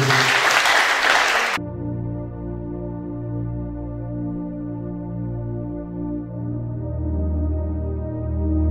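Church congregation clapping loudly for about a second and a half, then cutting off as a sustained organ or keyboard chord rings on alone.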